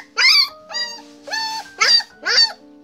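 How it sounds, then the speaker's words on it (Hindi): A dog in an animation makes five high, whining yelps and whimpers in a quick, uneven series, loud and close against a quiet background. "3रे दिन ट्रिकी ने थोड़ी थोड़ी आवाजें निकालना शुरू कर दिया।"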